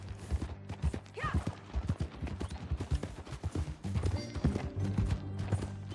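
Horse hooves clip-clopping in a Red Dead Redemption 2 ride, a steady run of close hoofbeats mixed with background game sound and music.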